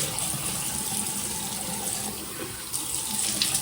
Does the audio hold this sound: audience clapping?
no